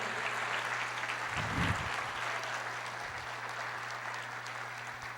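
Applause from a church congregation during a sermon, a steady wash of clapping lasting throughout, fairly loud and continuous with a brief low thump partway through.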